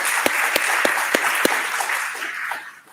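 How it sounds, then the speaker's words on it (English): Conference audience applauding panelists at a policy dialogue, a warm burst of clapping with a few sharp individual claps standing out, tapering off toward the end. "a round of applause for our panelists"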